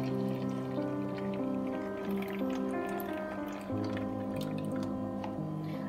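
Water soaked overnight with lemon peels pours steadily into a container, a continuous gurgling rush whose tone shifts as it fills, with no voices.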